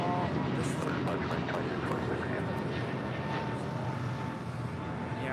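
American Airlines A321neo jet departing LAX on a takeoff run, a steady broad engine roar held at constant loudness throughout, with faint voices now and then underneath.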